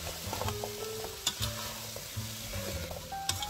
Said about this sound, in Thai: Put a pot on the cooker use medium heat and pour apples in